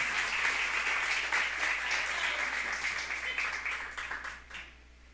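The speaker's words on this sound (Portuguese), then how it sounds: "Você pode aplaudir o Senhor enquanto eu bebo água?" Congregation in a church service applauding, a dense sustained wash of clapping that holds steady, then thins and fades out near the end.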